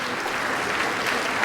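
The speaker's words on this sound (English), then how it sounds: "give the middle school strings and the upper schools who joined them a resounding round of applause" A school assembly audience applauds middle school and upper school string players with a dense, even wash of many hands clapping, steady and loud throughout the short stretch.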